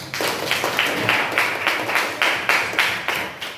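Pupils in a religious studies class clap in unison with a steady rhythmic beat, around a dozen crisp group claps evenly spaced, near and fairly loud over a light room murmur.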